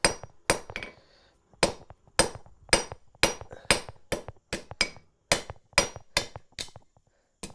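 A blacksmith hammers square steel stock to forge a rough shoulder, about 1.25 inches from the end, ahead of a diamond finial. Sharp, ringing hammer blows land in a steady rhythm, roughly fourteen strikes, close and loud with no talking.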